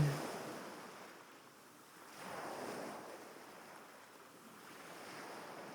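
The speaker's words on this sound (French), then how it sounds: "Le scintillement des vagues." Ocean waves washing in slow, steady surges, a soft continuous hiss of surf with gentle swells rising and fading.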